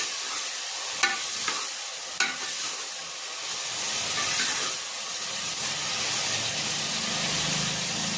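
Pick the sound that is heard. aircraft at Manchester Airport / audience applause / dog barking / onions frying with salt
onions frying with salt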